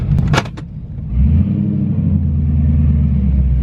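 A loud Cadillac CTS-V, just fitted with a new throttle body, pulls off for a drive: a short burst of clicks and knocks, then a deep, close engine rumble that builds and holds steady.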